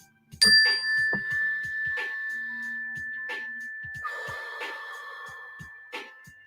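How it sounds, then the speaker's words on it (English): A single mindfulness bell is struck once and rings with a clear bright tone that sustains and slowly fades, with faint soft knocks and rustling beneath it. "Take a deep breath when you hear the mindfulness bell,"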